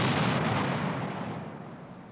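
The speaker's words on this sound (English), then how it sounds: "clearing a field of fire may mean using the assault pioneers to provide a little heavier demolition." A heavy demolition blast set off by assault pioneers in beechwood booms loud and broad, its roar fading slowly through the trees with no talk.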